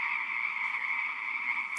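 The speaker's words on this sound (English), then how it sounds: "Listening to the frogs on a warm spring night." Frogs croak on a warm spring night, a dense continuous trilling chorus at steady volume with no other sounds.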